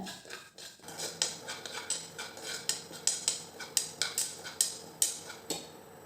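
Two tablespoons of carom seeds dry-roasting in a kadai, with a spoon stirring them and making a steady run of close, sharp metallic clinks and scrapes against the pan.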